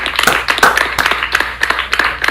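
A few people clapping for a rapper during a freestyle battle reaction session, close and uneven claps in loose irregular bursts, fairly loud with small gaps between them.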